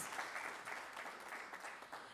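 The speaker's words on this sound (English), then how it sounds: "Let's have another round of applause for Mrs." A graduation audience applauds an honoree, a steady, fairly faint and distant patter of many hands clapping throughout the short stretch.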